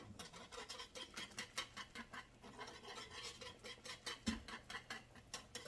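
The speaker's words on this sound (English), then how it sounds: "Break that down with the whisk. We're going to whisk that in." A whisk beats parmesan into a thickening sauce in a skillet, making quiet, rapid rhythmic clicks and scrapes against the pan in a steady repeating pattern throughout.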